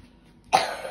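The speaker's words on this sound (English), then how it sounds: "I couldn't do that because I started coughing crazy" A single sharp cough from a girl bursts out close to the mic after a moment of near silence, then trails into a brief rough throaty tail.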